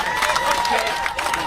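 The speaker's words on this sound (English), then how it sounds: "Okay, they're cheering because the cops are here." A crowd cheers as police arrive at an incident involving Rep. Lee Zeldin, a dense wash of voices and cheering held at a steady level throughout, with voices mixed in.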